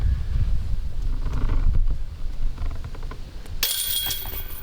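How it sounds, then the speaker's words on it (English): Wind gusts buffet the microphone on an open disc golf course, a low rumbling roar that rises and falls, with a sharper rustle near the end. "it is windy"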